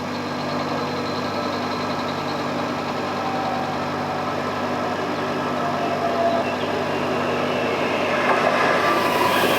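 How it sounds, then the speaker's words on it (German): Four-car Twindexx double-deck set running as the RE70 regional train into a station on the Riedbahn, a steady mechanical hum and rumble with tonal engine drone, building slightly louder as it approaches. "Hier kommt der RE70 mit einer 4er Twindex-Garnitur"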